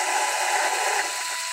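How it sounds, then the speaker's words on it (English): A grinding stone works over a rough, scraped fairing patch on a Suzuki GSX-R motorcycle, giving a steady, close, high-pitched abrasive whir that holds evenly throughout with no talk. "So we will use the grinding stone to polish and smoothen it out."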